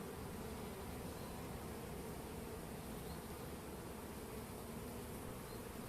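Honeybees swarm and buzz around an opened beehive during a brood check and feeding, a dense, steady hum that stays even and close throughout with no talking.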